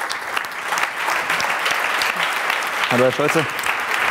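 Audience applause welcoming a guest onto a talk-show stage at a German media event, steady clapping throughout with a brief spoken greeting near the end.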